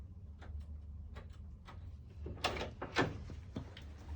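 A secured evidence room door in a police property area closes with a few soft clunks and latch clicks, near and fairly quiet over a low steady hum.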